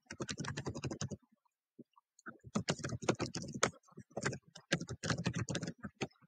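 Rapid keystrokes on a computer keyboard, typed into a website contact form, come in close bursts of clicking separated by a short pause, fairly quiet and with no talking.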